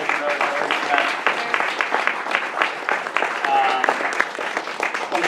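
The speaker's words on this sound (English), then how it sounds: "Round of applause for these guys." An audience at a live business event in Los Angeles gives a round of applause, steady dense clapping throughout with voices mixed in.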